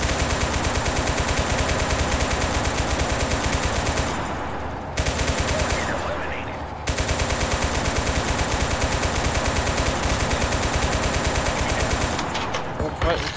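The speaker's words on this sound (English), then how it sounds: "My machine gun fire." Sustained machine gun fire in the video game Total Conflict Resistance, rapid evenly spaced shots hammering loudly and almost continuously, broken by two short pauses.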